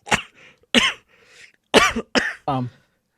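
Several separate harsh coughs from a man in a game scene, spaced irregularly over about three seconds with quieter throaty breaths between, close and fairly loud.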